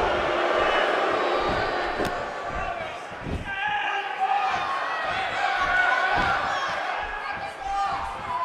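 A dense, steady roar of an excited arena crowd at a women's wrestling match in Phoenix in the WWE 2K18 video game, loud and continuous throughout, with scattered thuds and cheers swelling at moments.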